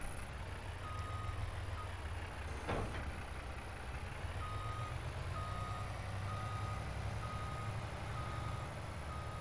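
A flatbed semi-trailer truck reversing, its steady backup beeper pulsing at an even rhythm over a low diesel idle, with one brief hiss partway through and no voices.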